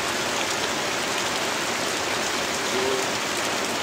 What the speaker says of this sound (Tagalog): Kasi ang lakas talaga ng ulan